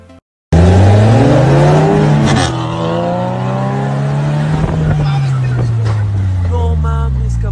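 Two powerful cars race each other, their engines revving hard and climbing through gear changes in loud, close-up roars that overlap and hold steady to the end.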